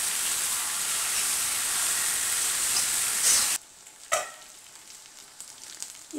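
Vegetables and potato pieces fry in hot oil for veg biryani, a steady loud sizzle that cuts off abruptly, followed by quieter scattered crackles and a brief sharp hiss.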